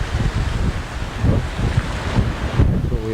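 Strong wind rushing over flood water pushed inland around a small gazebo, a loud, gusty roar with rumbling buffets on the microphone and a wash like surf beneath it.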